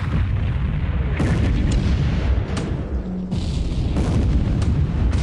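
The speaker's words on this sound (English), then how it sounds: "Nagato really getting a lot of fire now." Battleship Nagato under heavy naval gunfire in a World War II strategy game, deep repeated booms and blasts over a steady rumbling roar, loud and sustained.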